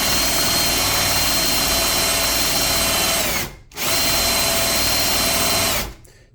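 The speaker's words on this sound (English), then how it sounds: "with the drill attachment, it keeps me from having to crank it by hand forever with a 20 to 1 ratio on the worm gear" Close, loud power drill whine driving the worm gear of a fretboard radius jig, running steadily for about three seconds, dropping briefly, then running again before stopping.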